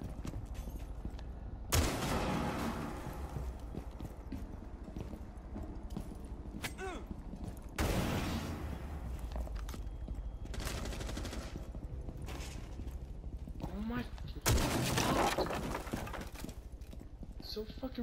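Gunfire in the video game Rainbow Six Siege, with bursts of shots and loud onsets at several points, sounding under a busy game mix with voices talking over it.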